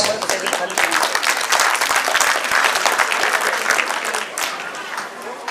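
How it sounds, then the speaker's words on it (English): A crowd at a school's annual function gives students a loud, sustained round of applause: dense, continuous clapping close by that tapers slightly toward the end. "So give them a huge round of applause."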